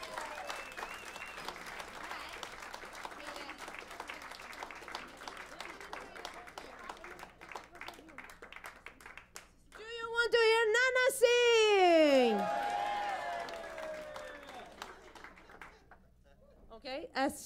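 Audience at Birdland jazz club applauding the band, steady clapping through most of the stretch, swelling with cheers and whoops near the middle before fading to quieter scattered claps.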